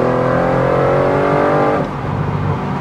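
A 2014 Ford Raptor truck with 80,000 miles sounds a loud, close, continuous engine note that holds steady and then drops off slightly, with no talk over it.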